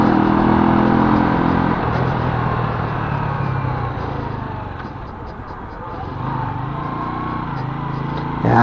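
A Euro Daan Hari 125 standard motorcycle being ridden, its engine droning steadily with clutch work and shifting revs, wind rush and road noise loud throughout, louder at the start and end.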